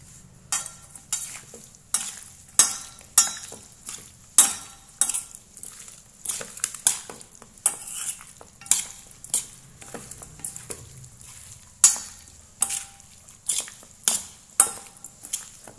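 Pork being stirred and mixed by hand in a bowl with marinade and chopped spring onions, giving repeated wet clicks and scrapes of utensils against the dish in an irregular rhythm, close and fairly quiet, with no talking.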